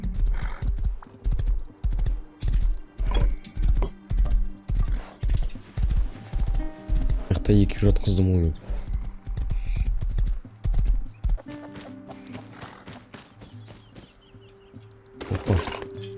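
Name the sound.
horse clip-clopping in the video game Rust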